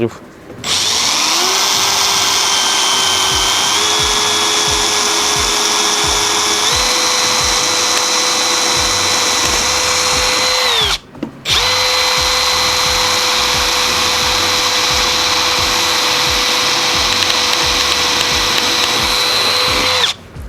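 A Milwaukee M18 cordless hammer drill-driver bores through 5 mm thick metal, a loud close whine that climbs in pitch in steps, stops briefly midway, then runs steady again to the end.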